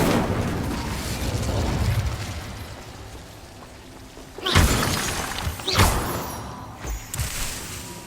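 Incendio fire spell cast in Hogwarts Legacy, a crackling, shattering burst rising out of a rumbling bed, followed by a few sharper bangs and pops over several seconds.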